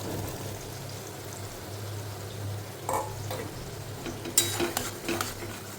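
Pointed gourd curry with onion and tomato fries and sizzles in a pan, with soft scraping stirs and a few brief louder clinks near the end; fairly quiet and close, with no talking.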